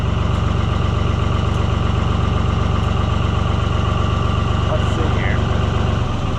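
A generator engine runs steadily at close range, with a loud, continuous, even idle drone throughout.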